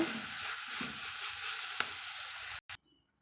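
Palak spinach poriyal sizzles and fries in a pan as it is stirred, a steady close hiss with occasional utensil taps, cutting off abruptly near the end, followed by near silence.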